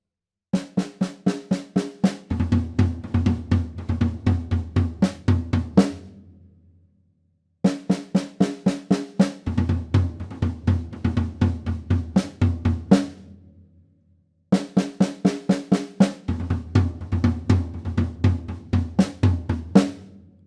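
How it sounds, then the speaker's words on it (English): A drum pattern from a song, played three times on snare and first tom: quick sharp snare strokes leading into a rolling run of deeper tom hits, each pass ending in a brief pause. "once you're comfortable playing that pattern on the first tom and the snare drum"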